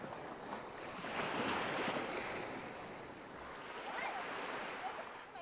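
Ocean waves washing onto the beach at Mui Ne near a fishing village, soft faint surf swelling and receding in gentle surges with some wind noise across the microphone.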